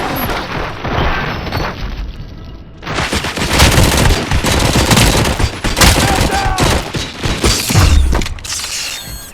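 Heavy gunfire in the game RoboCop: Rogue City, a loud sustained barrage of rapid shots and booms with mechanical clatter that starts after a quieter opening and keeps going throughout.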